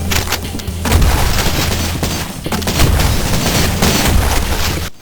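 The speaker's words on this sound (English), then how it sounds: "M79 grenade launcher" Loud blasts and booming gunfire from the M79 grenade launcher in the game Cultic, several heavy bangs in quick succession with rumbling echoes.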